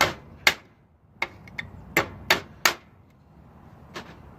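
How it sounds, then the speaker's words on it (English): Sharp metallic taps from a small square hammer knocking hot steel out while making an arrowhead, about eight irregular strikes with brief pauses between them, close and fairly loud. "I'm going to go ahead and take my little square hammer I've got"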